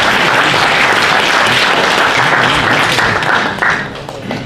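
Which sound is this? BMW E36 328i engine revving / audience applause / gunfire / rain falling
audience applause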